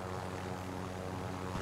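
A helicopter in a video game drones with a steady, loud, continuous rotor and engine hum, unbroken and without talk.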